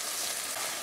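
A butterfish stew base frying in a pan gives a steady, close hiss of sizzling oil that stays even throughout, with no talking.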